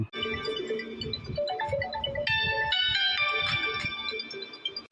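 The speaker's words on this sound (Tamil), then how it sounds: "ஃபோன் அடிக்குது யாருன்னு பாரு" A mobile phone ringtone plays a loud, bright electronic melody that runs continuously from start to finish, with no voices over it.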